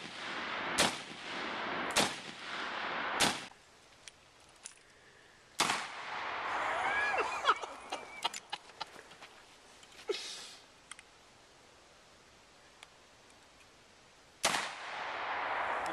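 Outdoor BB gun shots during a small bird hunt: several sharp, isolated cracks spaced seconds apart, fairly close and quiet, with rustling and handling noise between them and no talking.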